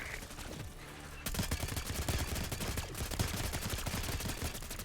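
Rapid video-game gunfire rattles in dense, fast bursts, loud and nearly continuous after a brief quieter lead-in, with no talking.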